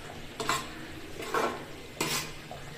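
A spoon scrapes gently around a pot of fish curry three times, soft clinks over a faint simmering bubble in the background.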